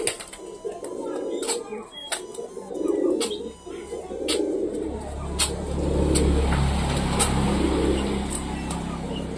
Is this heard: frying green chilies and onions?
no